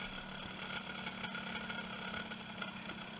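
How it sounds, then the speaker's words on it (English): A Serenity motor with an out-of-balance armature idles down after its power is cut, making a steady low hum with a faint whine and slight vibration, continuous and fairly quiet throughout. "I'll turn off the power. Let it idle down a bit."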